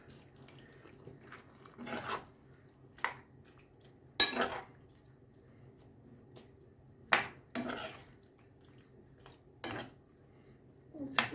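Zucchini and rice with tomatoes are stirred in a pot, giving scattered clinks and scrapes of a utensil against the pot at irregular intervals, fairly quiet with soft kitchen background between strokes.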